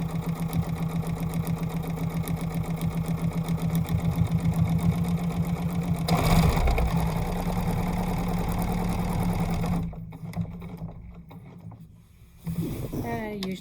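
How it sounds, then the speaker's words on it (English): A sewing machine stitches around the edge of a quilt-as-you-go block, a steady fast mechanical whir that runs on, then cuts off before a few short bursts and a brief final run of stitching. "I usually just sew around to the starting point on this side."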